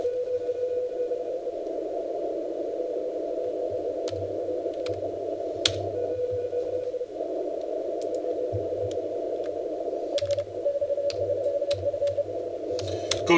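A very weak amateur radio signal comes through on the 15 meter band, a faint thin tone buried in a steady hiss of receiver noise, with low rumbling bursts and scattered clicks throughout.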